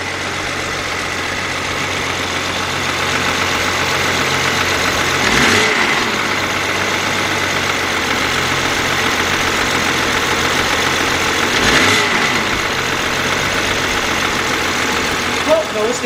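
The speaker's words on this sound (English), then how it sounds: "Like rattle noise. I'm gonna tap the gas a little bit." A 2009 BMW X engine with a rattle noise, idling steadily up close, with two brief light taps of the gas producing short rises in revs before settling back to a constant hum.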